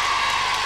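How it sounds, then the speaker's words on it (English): Studio audience applause on a British children's TV game show, a steady dense wash of clapping and crowd noise filling the short moment without pause. "let's hear a round of applause from all of you for Toby."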